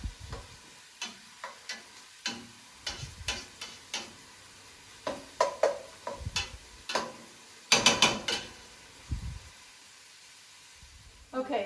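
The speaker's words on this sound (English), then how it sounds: "I've been frying the onions for, I don't know, about 10 minutes." Onions fry in a pan on a stove turned close to high, giving a soft background sizzle punctuated by frequent scraping and stirring clicks as they are moved around.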